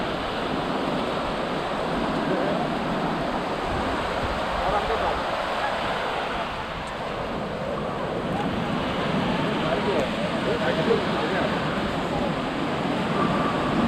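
Waves wash steadily onto a beach on the Goa coast in a continuous, rushing roar with wind noise, close and fairly loud.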